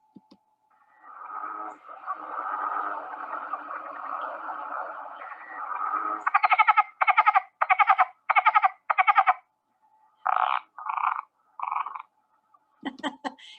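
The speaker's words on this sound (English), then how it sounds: "This is the cricket frog." A frog calls alone: a long buzzy trill, then a run of rapid clicking bursts in quick succession, fairly close, with silences between the later calls.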